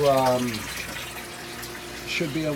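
Water pouring into a 500-gallon pond sand prefilter, a steady splashing flow heard near, with a voice talking over it at the start and again near the end.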